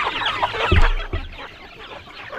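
Chickens raised on a hillside farm give a few close, low clucks with a soft thump in between, moderately loud over faint background hiss and no speech.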